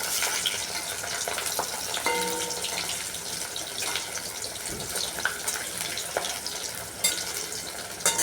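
Pieces of chitol fish fry in hot oil, cooked until reddish rather than crisp, with a steady close sizzle broken by occasional clicks and pops.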